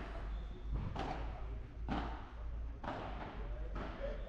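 Padel ball struck during a tournament match (P100, round of 16), four sharp pops spaced about a second apart in a rally, with mid-distance echo and steady background hum, no talk.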